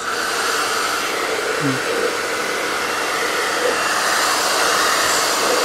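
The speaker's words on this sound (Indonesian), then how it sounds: "saya di sini menggunakan ini ya, hair dryer" A hair dryer blows steadily and loudly for several seconds, up close, heating and sterilizing a jar, a constant airy roar with no breaks.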